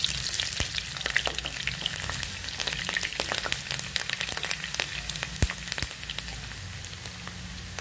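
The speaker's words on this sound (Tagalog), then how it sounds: "Ngayon, piprituhin ko muna ang sibuyas." Onions fry in oil in a pan, a steady soft sizzle with scattered crackling pops running continuously at moderate loudness, no voices.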